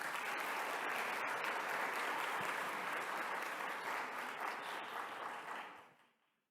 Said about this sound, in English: Another round of applause as they take the stage.